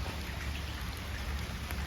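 Steady rain falls outdoors near a vegetable-picking spot, a dense, even hiss of drops with no breaks and no voices over it.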